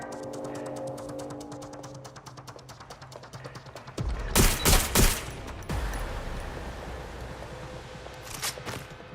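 Gunfire from the video game Watch Dogs Legion comes as a cluster of loud, sharp shots in quick succession midway, then a few more bursts near the end, set against game ambience and music.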